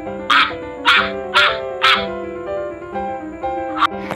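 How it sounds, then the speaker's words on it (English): A dog barks in a quick series of about eight sharp woofs, close and clear, evenly spaced and alone. "The correct answer is dog."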